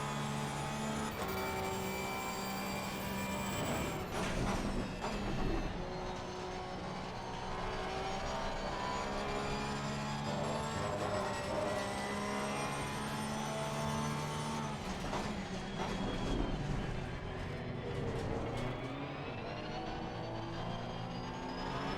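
Porsche race car engine in Assetto Corsa Competizione, a sustained loud drone with rising and falling rev pitch and upshifts, other cars audible alongside, continuous throughout.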